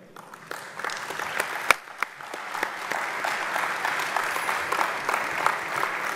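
An opening-ceremony audience at a convention in Singapore applauds an executive board, starting with scattered sharp claps and swelling into steady sustained clapping.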